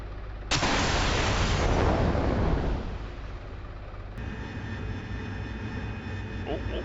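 AV-8B Harrier jet in a flight simulator game roars past loud and close in a sudden broadband rush that peaks for a couple of seconds, then fades into a steady engine drone with a sharp click midway.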